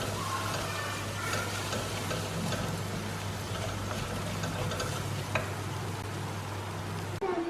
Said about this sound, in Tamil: ஸோ இந்த மசாலா போட்டதுக்கப்புறம் நல்லா மிக்ஸ் பண்ணி விடுங்க